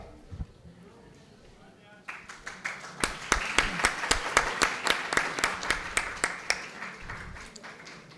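After a voice speaks, an audience at a panel discussion on innovation and entrepreneurship breaks into applause that builds into a loud crowd of claps, with a few strong regular claps near the mic pulsing through before it fades.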